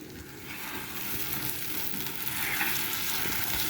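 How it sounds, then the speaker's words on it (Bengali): Dried fish (shutki) frying in oil, giving a steady, close crackling sizzle that grows slightly louder and continues without pause, with no voices. "এটাকে একদম এই যে তেলে ভেজে তেলটা যখন দেখবেন উপরে উঠে আসছে"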